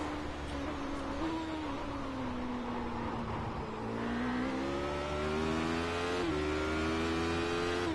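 Race car engine in the iRacing sim racing game, revving high and pulling hard through the gears with rising, stepped harmonic tones, loud and close, steady throughout with no talking.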